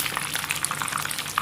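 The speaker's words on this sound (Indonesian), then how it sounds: "Nah ini kita goreng ya teman-teman" Keto frozen food frying in hot oil, a steady crackling sizzle with dense popping bubbles, close and continuous with no talk.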